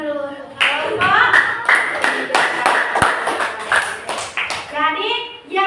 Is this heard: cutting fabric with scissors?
no